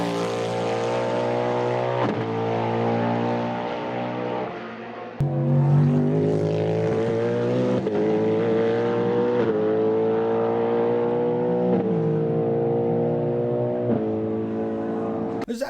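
Cadillac race car's cross-plane V8, derived from the C8 Corvette Z06 engine, revving loudly and steadily for about fifteen seconds, pitch climbing and dropping through several gear-like shifts, with no voices.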